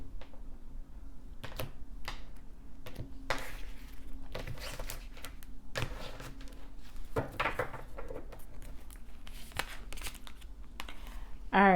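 A deck of oracle cards shuffled by hand for a tarot-style reading: quiet, irregular soft taps and riffles repeat steadily for several seconds, close and intimate, with a brief voice at the very end.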